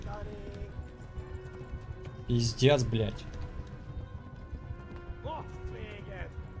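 Horse hooves clip-clop at a gallop in the medieval video game Kingdom Come: Deliverance. The steady, moderate rhythmic thudding runs under a man's brief muttered swearing in Russian.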